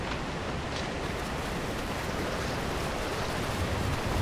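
Loud waterfall in the game ARK: Aberration, a constant broadband roar of rushing water that fills the whole stretch evenly, with no voices over it.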